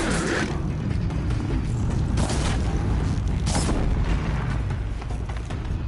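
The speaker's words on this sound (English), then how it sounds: "Those are new explosions." Explosions in the video game Horizon Zero Dawn: several sharp booming bursts land over a dense, rumbling mechanical game soundscape, loud and spaced a second or two apart.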